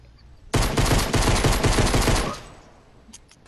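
A loud, rapid burst of automatic gunfire in the video game Fortnite, a steady stream of close shots lasting about two seconds before cutting off, followed by a few faint clicks.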